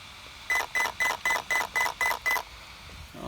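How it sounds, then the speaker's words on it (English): Eight evenly spaced electronic beeps from the speed controller of a Traxxas X-Maxx RC truck, signalling an 8-cell battery, clear and close, followed by quiet. "8 beeps for 8 cell"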